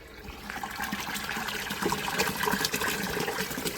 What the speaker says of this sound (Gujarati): તો જુઓ મોટર ચાલુ કરેલી છે તો પાણી આવે છે અત્યારે.